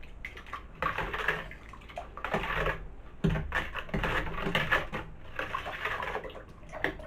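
Cherry wine must being stirred vigorously to dissolve sugar in a one-gallon batch, giving steady close scraping and sloshing in rhythmic bursts that last throughout.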